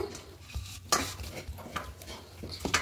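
A sweet lentil filling for radhaballavi is mixed again after cooking, with a few brief scraping and clinking movements against a bowl, quiet and close, with no talking.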